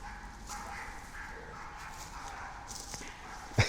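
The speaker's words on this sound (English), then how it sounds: "wow, that dog is really going for it" A dog barks out in the woods, faint and distant, in scattered bursts over a steady outdoor background hiss.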